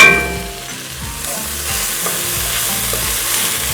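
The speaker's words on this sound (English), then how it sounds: "So we're cooking these over medium, stirring every minute or two, maybe two, giving them a chance to get caramelized." Ground beef and bell peppers frying over medium heat, a loud, steady crackling sizzle with stirring scrapes now and then, close, over a low musical backing.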